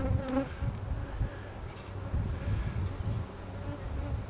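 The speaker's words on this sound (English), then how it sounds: "This is going to be bubbling with bees." Honeybees swarm a hive frame full of larvae while a nuc is being installed, their steady close buzz droning on for several seconds with no voices.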